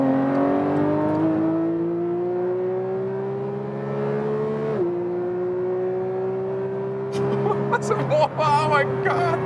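A Porsche 911 GT3 Touring 992 pulls hard through the gears, its engine tone climbing steadily with a brief dip at a shift, heard from inside the cabin with a voice exclaiming near the end.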